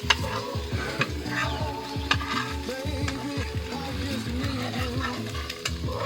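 Eggs sizzle in a pan at a campsite while a utensil repeatedly stirs and scrapes through them, giving close, steady frying with rhythmic clinks and scrapes on top.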